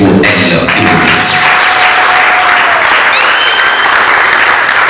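Loud, continuous applause and cheering from the audience fills a wedding and events fair in Mbuji-Mayi as the organizer is welcomed, with a voice faintly audible beneath the crowd noise.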